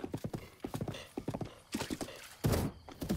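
Horse hooves galloping in the video game Zelda: Breath of the Wild, quick rhythmic clip-clop beats, close and prominent, with a whinny-like burst near the end.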